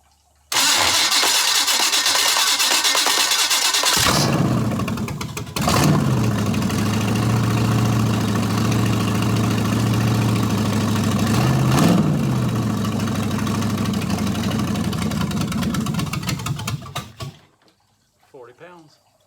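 A Chevy van engine cranks loudly for a few seconds, fires and settles into a steady rumbling idle close by, with brief revs. After about a dozen seconds it cuts out.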